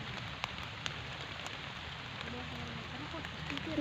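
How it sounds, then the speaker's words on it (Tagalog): Rain falls outdoors in a steady patter on surfaces, a continuous soft hiss with a few sharper drop ticks, fairly faint and unbroken. "dahil po umuulan na po"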